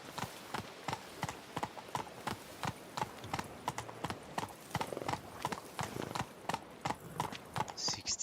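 Horse galloping in The Witcher 3 video game, rapid rhythmic hoofbeats clip-clopping steadily and close, with faint talk in the background.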